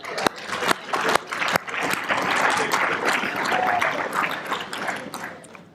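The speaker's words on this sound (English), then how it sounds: "that, we need to clap for that." Sustained audience applause fills a hall at a pan-African parliamentarians' climate policy summit, starting with a few sharp claps, then swelling into a steady, dense wash of clapping that holds without talk.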